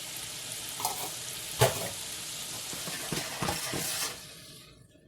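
Chicken pieces sizzle steadily in a hot pan right after soy sauce goes in for orange chicken, with close stirring scrapes and a few utensil clinks over a continuous frying hiss that fades near the end.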